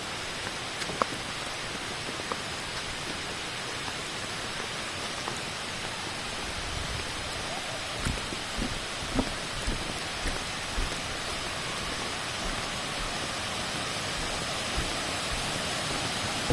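Than Sawan, a two-tier waterfall in Phayao, pours in a steady broadband roar, its water rushing continuously with scattered small splashes and knocks nearby.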